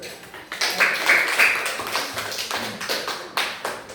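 A class claps hands during an Islamic ethics lesson, close, sparse claps with a few distinct sharp hits over a few seconds.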